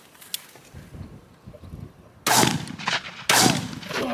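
Two loud shotgun shots ring out close by during pigeon shooting in the Warwickshire countryside, each a sharp blast with a short decaying tail, following a quieter stretch of faint background rustle.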